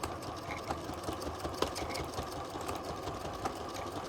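A sewing machine stitching an advent calendar fabric panel, running in a quiet steady whir with faint rhythmic needle clicks throughout.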